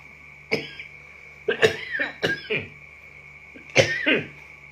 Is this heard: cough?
yes